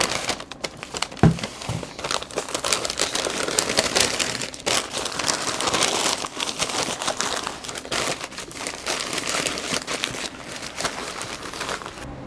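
Beef ribs being wrapped in butcher paper during a Texas-style cook on a Pit Boss Navigator 850, with loud, close, continuous crinkling and rustling of paper, plus a few soft knocks, lasting several seconds.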